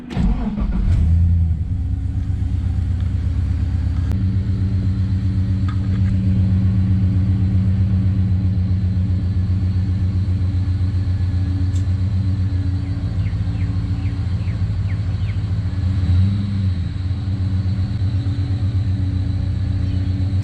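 A Holden VL Commodore is pulled slowly out of a tight spot, with a steady, loud, low engine rumble that carries on unbroken and a slight lift near the start.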